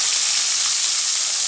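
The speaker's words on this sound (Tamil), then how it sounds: "இப்போ இந்த ஆனியன் நல்லா பொன்னிறமாக வதங்கட்டும்" Chopped onions and curry leaves frying in hot oil with a piece of cinnamon and cloves for an egg masala curry, a steady, loud, close hiss of sizzling, with no talking.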